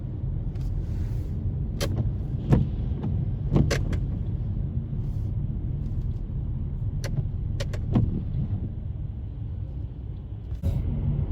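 Car crawling through slow traffic in rain in Texas, heard from inside the cabin as a steady low engine and road rumble with scattered clicks and taps throughout.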